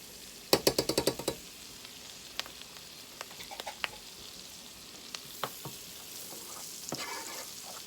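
Minced garlic sizzles steadily in a hot pan, a soft continuous frying hiss close by, opening with a quick burst of rapid spoon or spatula clinks and then scattered light taps and scrapes, with no voices.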